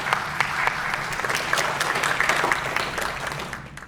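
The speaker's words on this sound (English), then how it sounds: "we are going to give a massive round of applause to Chris" A film festival audience in Fakenham gives Chris a loud, close round of applause, many hands clapping in a dense, continuous burst that tapers slightly at the end.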